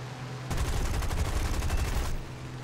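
A P-36C Hawk fighter fires its machine guns in the War Thunder video game, one dense rattling burst of rapid shots lasting under two seconds, loud and close with no talking.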